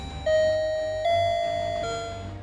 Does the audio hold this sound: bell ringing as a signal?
yes